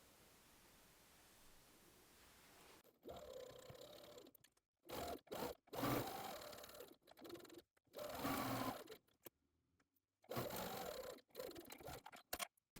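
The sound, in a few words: sewing machine sewing tea towel straps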